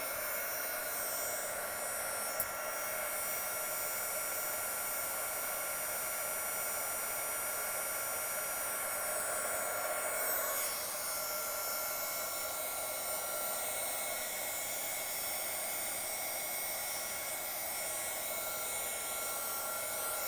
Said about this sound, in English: Just going to get the heat gun again.